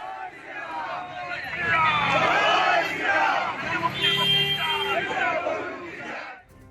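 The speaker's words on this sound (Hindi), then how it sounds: "सड़कों पर उतरी भीड़ ने लगाए जय श्री राम के नारे" A street protest crowd in Bangladesh chants Jai Shri Ram slogans: loud massed voices shouting together almost continuously for several seconds, with rising and falling cries over a dense babble, before cutting off abruptly.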